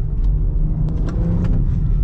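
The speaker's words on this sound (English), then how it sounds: "Exhaust sounds pretty good for stock." A 2020 BMW X3 M Competition's stock twin-turbo six-cylinder rumbles with a deep, steady exhaust note, close and full, with a few brief ticks and pops over the low drone.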